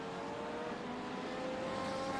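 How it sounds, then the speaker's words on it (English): Audi GT3 race cars roar through a sim racing game at Hockenheim, a continuous loud engine drone with steady high tonal whine and no break, cars running close together. "I tell you what, those Audis do sound good"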